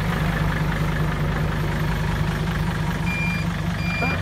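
A Hino Mega JO7C 175-horsepower dump truck idles with a heavy, steady rumble while its reversing alarm beeps, the tones coming in a regular pattern near the end over the engine drone.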